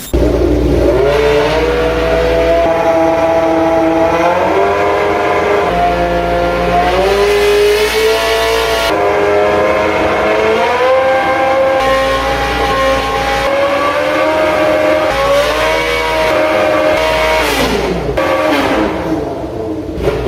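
A car engine with stainless steel and titanium exhausts revs repeatedly, rising and falling in pitch with loud, throaty exhaust roar, close and sustained with no talking.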